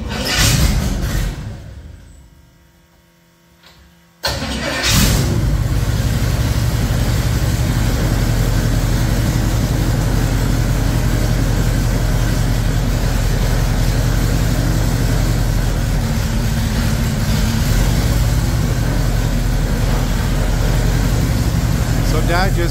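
A propeller engine runs on its test run after a new propeller was fitted, with wheel chocks in place. After a brief quieter lull the loud, steady droning roar cuts in abruptly and holds unbroken at close range.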